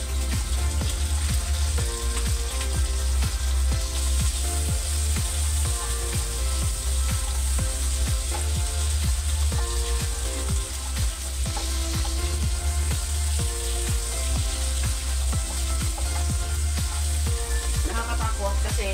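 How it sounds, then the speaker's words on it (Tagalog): Meat frying in hot oil, a dense loud sizzle with constant spitting and splattering, close and unbroken throughout, with a voice talking faintly underneath. "Nakakatakot kasi tumatalsik yung mga mantika ng karne"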